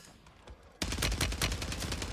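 Gunfire in the video game Warzone 3 on Rebirth Island: after a quiet moment, a sudden dense burst of rapid automatic shots, loud and close, continuing to the end.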